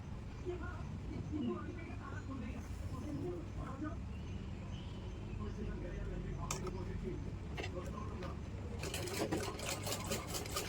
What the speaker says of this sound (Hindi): इस तरह से मैं मशीन लगा रही हूँ, इसी तरह से आपको भी मशीन लगानी है।